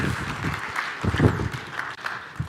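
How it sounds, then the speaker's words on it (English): An audience gives applause, a moderate, uneven patter of claps that swells slightly near the middle and thins toward the end, with no talking. "give him a big round of applause"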